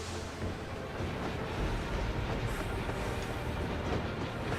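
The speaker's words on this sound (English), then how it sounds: "put this train through her paces" Train running in the Final Fantasy XIV video game: a steady, loud rumble and rattle of rail travel that fills the whole stretch without letting up. No talking.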